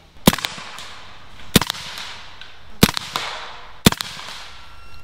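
A BinTac S45 Mini blaster fires four sharp, loud shots at a steady pace of roughly one per 1.2 seconds, each a crisp crack with a short ringing tail and faint clatter between shots.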